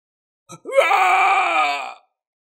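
A man's anguished scream as he is struck on the head in a fantasy battle: a short grunt, then one long, loud, strained cry lasting over a second, alone.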